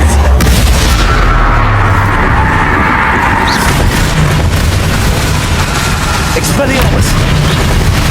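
A Confringo fire spell is cast in Hogwarts Legacy and explodes in a loud, booming burst, followed by a sustained rumble and crackle of blast debris.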